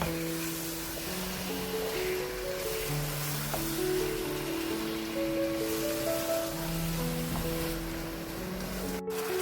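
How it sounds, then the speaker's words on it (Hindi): Minced keema fries in a pan with salt as its water cooks off, giving a continuous hissing sizzle that stays even throughout under a faint tonal background melody, with no voices. "पूरा पानी हमने इसका ड्राई करना है इसके साथ।"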